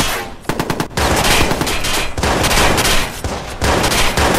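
SG-90 automatic fire in the Watch Dogs video game during laundry room combat, loud close bursts of rapid shots with brief gaps between volleys.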